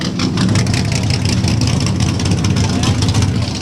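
A 1971 Ford Mustang convertible engine running at a coastal car cruise, a steady, loud rumble close by with voices talking over it.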